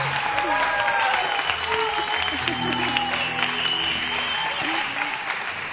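Studio audience on the Turkish game show Çarkıfelek applauds a contestant, a loud, dense, sustained burst of clapping with crowd noise and some voices mixed in.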